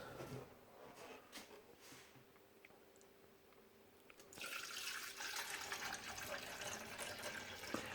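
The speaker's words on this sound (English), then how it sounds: "let's put some water inside" Water is poured into the tank of a Krups Nescafe Dolce Gusto Infinissima coffee machine, a soft splashing trickle that swells into a steady, fuller pour partway through, with faint clinks beforehand.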